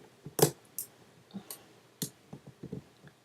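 Several sharp snips and clicks of scissors struggling against a hard plastic security tag on packaging, irregular and close, with a louder crunch near the start.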